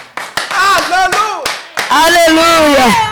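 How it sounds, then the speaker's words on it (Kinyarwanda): A church congregation breaks into applause, bursts of hand claps mixed with loud sung or shouted praise from a voice over them, close and energetic. "Komera Imana amashyi"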